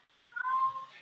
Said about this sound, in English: I have a very vocal cat.